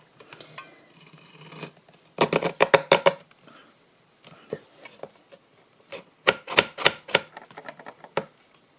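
A mini paper trimmer slicing card gives bursts of quick, crisp clicking and scraping strokes with pauses between, close and fairly quiet.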